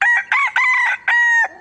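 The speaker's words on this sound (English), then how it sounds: "Have you ever had a desire to be woken up right as the sun is coming up by a rooster?" A rooster crows close by, three or four drawn-out harmonic calls with brief breaks between them, loud and alone with no talk.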